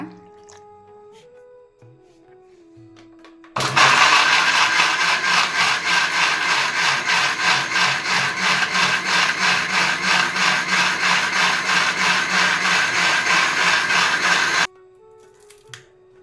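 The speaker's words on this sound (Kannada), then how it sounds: "ಸ್ವಲ್ಪ ನೀರು ಹಾಕ್ಕೊಂಡು ಈಗ ರುಬ್ಕೊಳ್ಳೋಣ" A kitchen mixer grinder whirs loudly and steadily for about eleven seconds, grinding spice paste of sambar powder, roasted gram and water for avarekalu saaru, starting and stopping abruptly with quiet room sound either side.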